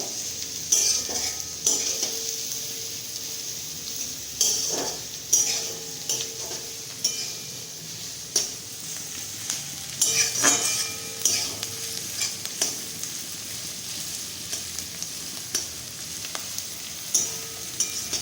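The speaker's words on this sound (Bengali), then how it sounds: "তো পেঁয়াজটাকে এবার ভেজে নেবো।" Onions frying in a pan crackle with a soft, steady sizzle while a spoon scrapes and stirs them in irregular close taps and clinks, with no talking.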